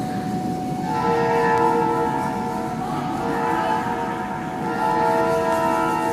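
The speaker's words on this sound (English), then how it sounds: "So that horn you might be hearing is not going off in the building. We are just near some train tracks." A train horn from nearby railway tracks sounds loud and sustained, with steady tones pulsing over a rumbling background for several seconds; no speech is heard.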